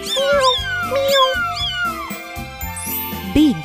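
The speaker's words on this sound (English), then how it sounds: "Meow, meow." A cat meows twice amid a children's lesson about kittens, with bright tinkling chimes and bouncy music running throughout and a higher squeak near the end.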